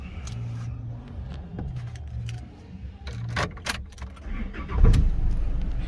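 Keys jingle and clicks sound before the diesel engine of a Chevrolet Colorado pickup cranks and catches with a deep low rumble, then settles into a steady idle up close.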